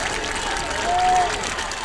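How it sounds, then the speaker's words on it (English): A high school football crowd at a Norwood Indians versus Western Brown varsity game applauds an injured player, producing a brief, moderately distant wash of clapping and cheering that swells near the middle, with a voice over the stands. "Let's get a big round of applause for right."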